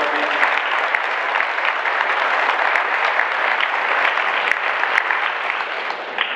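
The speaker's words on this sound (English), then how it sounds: "We owe a big round of applause to Rob," Steady audience applause fills a public meeting in Ojai about a Golden State Water buy-out, a dense, even wash of clapping at close range that holds without pause for several seconds.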